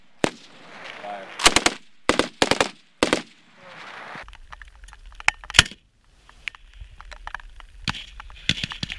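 Bursts of machine gun fire from soldiers of the 173rd Airborne Brigade at a range in Slovenia, several sharp, loud volleys in quick succession, with short commands and talk between them.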